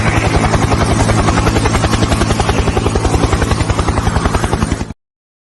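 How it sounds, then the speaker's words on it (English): A helicopter arriving to land, its loud, close rotor thudding in a fast, even rhythm with a droning engine underneath, then stopping abruptly. "Let's check the camera, see if the helicopter's landed yet."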